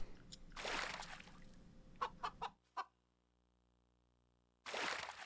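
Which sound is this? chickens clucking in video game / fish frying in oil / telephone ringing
chickens clucking in video game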